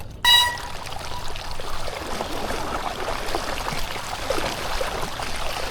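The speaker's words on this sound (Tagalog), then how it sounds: "pumapasok na yung tubig" Floodwater rushes and pours steadily nearby across a gravel route, a continuous churning flow after a short sharp sound at the start.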